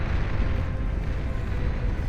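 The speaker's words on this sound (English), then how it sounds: "A beautiful explosion" An explosion in the video game Beyond All Reason, heard as a dense, rumbling blast that holds steady and booms throughout without any voices.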